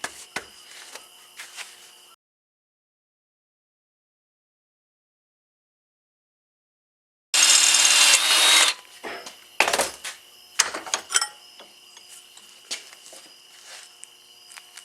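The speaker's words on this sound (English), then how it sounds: "we're going to drill the rest of them." A power drill bores holes for a homemade fishing magnet, running in one loud burst of about a second and a half after a long silence, followed by scattered clicks and handling knocks.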